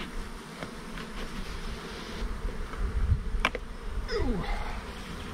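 Honey bees flying around beehives in sunshine, a steady buzzing drone of many insects close by, with a few individual bees zipping past the ear, and no talk.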